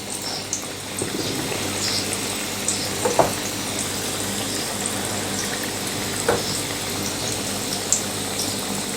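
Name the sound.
onion crab-style bhaji (kanda bhaji) frying in oil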